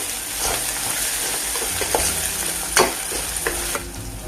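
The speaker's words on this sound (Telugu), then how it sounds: "అల్లం వెల్లుల్లి పేస్ట్ వేసుకున్న తర్వాత బాగా వేయించుకోవాలి" Ginger garlic paste frying with browned onions in a pan, a loud close sizzle broken by repeated spatula stirring and scraping clacks, no speech.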